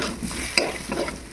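Soybean chunks frying in a pan with sugar, a soft steady sizzle under a quick stirring scrape and one sharp clink of a utensil, brief and close.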